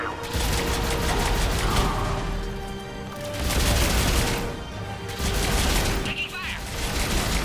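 Rapid bursts of gunfire ring out during a firefight in Mass Effect: Legendary Edition, loud and sustained in several waves, with mechanical clatter and shouted combat voices mixed in.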